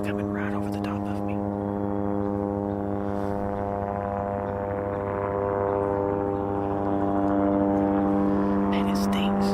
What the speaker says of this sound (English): That helicopter's coming right over the top of me.